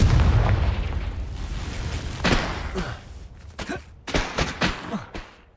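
Confringo fire spell explosions in the game Hogwarts Legacy, a heavy rumbling boom followed by a burst of sharp, rapid blasts and crackles, loud and close, fading out toward the end.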